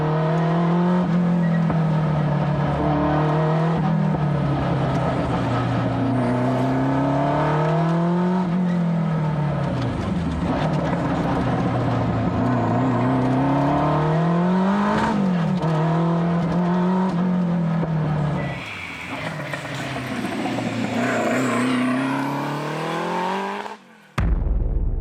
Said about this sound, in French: on a une voiture qui est juste dingue, qui est une voiture de course